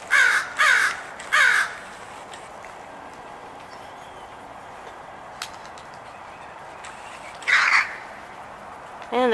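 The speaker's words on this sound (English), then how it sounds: "And the crows are fighting over the peanuts." Crows squabbling over peanuts give a few loud, close caws in a quick burst of three, then fall quiet before a final caw near the end, with faint outdoor background between.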